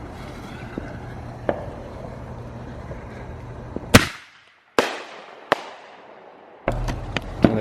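Double-break firework shells bursting outdoors at a backyard fireworks show: several sharp, loud booms spaced about a second apart, each with a crackling tail, over a steady low background rumble.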